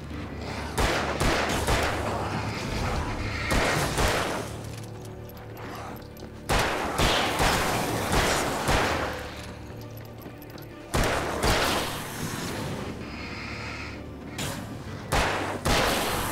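Shotgun blasts in the video game Alan Wake: three loud, booming shots spaced roughly five seconds apart, each with a rumbling tail over dark ambient game sound.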